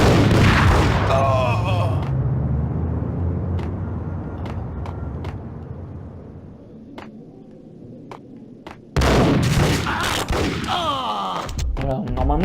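Gunfire in the video game Max Payne comes as several sharp booming shots mixed with game effects, loud and near, while a voice talks over parts of it.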